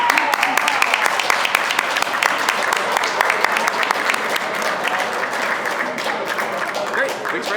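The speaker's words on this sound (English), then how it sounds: "let's give him a big round of applause" Wedding guests give a big, sustained round of applause for the bride's eldest brother, dense crowd clapping filling the room evenly throughout, with faint voices mixed in.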